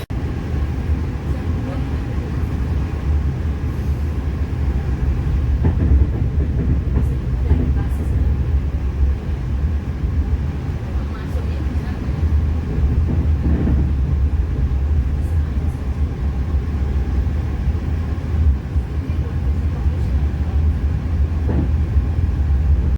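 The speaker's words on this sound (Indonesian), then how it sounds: "KRL-nya harus berhenti sih, karena Parahyangan kita dulu yang berangkat" The KA Parahyangan passenger train pulls out of Gambir station in a continuous low rumble and rolling drone, heard from on board, while people talk over it.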